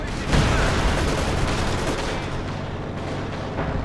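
Katyusha rocket artillery firing in the Company of Heroes 2 video game: a dense, loud, continuous roar of launches and explosions, noisy and unbroken, swelling near the start and then holding steady throughout.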